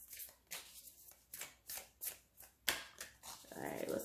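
Tarot cards being shuffled by hand in a series of crisp riffling bursts about every half second, each a short papery flutter, with a steadier rustle near the end.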